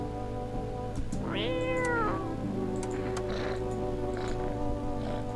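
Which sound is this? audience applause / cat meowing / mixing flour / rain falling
cat meowing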